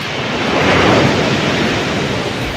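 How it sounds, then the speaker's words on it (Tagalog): Strong ocean waves roll onto the beach at Baler, Aurora, as a loud, continuous roar of surf mixed with wind buffeting the microphone. "Sobrang alon."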